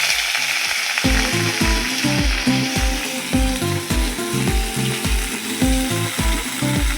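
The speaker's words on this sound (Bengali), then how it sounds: "এখন এই সবজিগুলোকে দিতে হবে তেলের মধ্যে, তারপরে চাউমিনগুলো দিতে হবে" Vegetables for chowmein frying in hot oil in a wok, with loud sizzling under rapid, rhythmic metallic scraping and tossing strokes that repeat steadily throughout.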